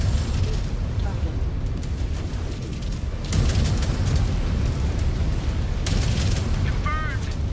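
A mech explodes as it is destroyed in a MechWarrior video game, a sustained rumbling blast marked by sharp bursts near the midpoint and again late on, with voices talking over it.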